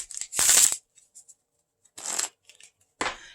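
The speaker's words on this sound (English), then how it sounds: "I'm going to give a really good few shuffles because we want this shuffled" A deck of playing cards riffle-shuffled by hand: a long, loud burst of rapid flutter, a few faint taps and handling clicks, then two shorter crisp shuffles.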